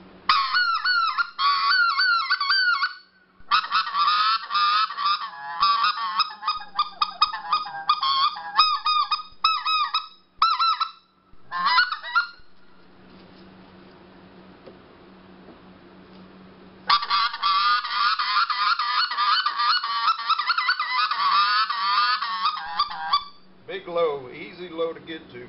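A goose call blown in a long series of honking notes, loud and close, moving between low and high pitches with a short quiet pause midway.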